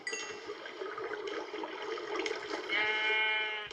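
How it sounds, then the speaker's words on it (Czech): A sheep bleats in a long, wavering call, close and clear, with a second, higher bleat toward the end and some faint background clinks. "OK, tady ovečka."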